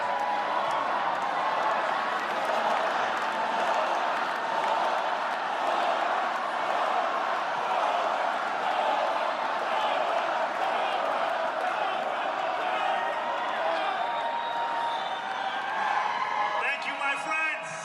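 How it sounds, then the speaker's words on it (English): A large crowd cheers and shouts without pause as New York City mayor-elect Zohran Mamdani comes on stage for his victory speech, a sustained roar that swells near the end. "Let's listen into the crowd"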